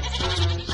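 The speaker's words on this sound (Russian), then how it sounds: "Уже козы завелись." A cartoon goat in Masha and the Bear bleats once, loud and close, a short wavering bleat over busy background music and sound effects.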